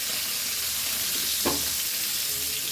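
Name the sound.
stirring mackerel cafreal masala in a pan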